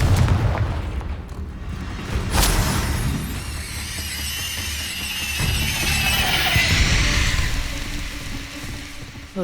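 A Confringo fire spell blasts in the Hogwarts Legacy video game, landing as a sharp boom followed by a long crackling, rumbling fiery roar amid other game effects.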